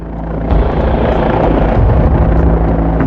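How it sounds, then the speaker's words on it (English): A Canadian Coast Guard helicopter flying over an inlet during an aerial search, its loud rotor roar building quickly and then holding steady and close, with no voices heard. "members of the Saanich police on board a Canadian Coast Guard helicopter to search the inlet from the air"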